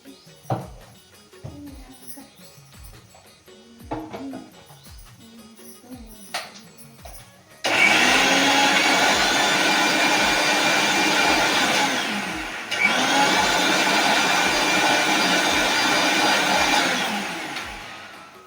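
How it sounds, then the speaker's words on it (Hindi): A mixer grinder whirs loudly as it grinds tomato, onion and chili for a bitter gourd curry, starting abruptly after quieter kitchen clatter and running steadily with a brief dip partway through before stopping. "अब मैं मिक्सी में पीसूँ"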